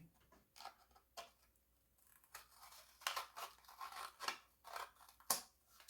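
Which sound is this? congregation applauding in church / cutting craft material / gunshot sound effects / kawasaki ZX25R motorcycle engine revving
cutting craft material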